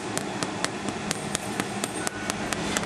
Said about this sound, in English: you just tap it with the knife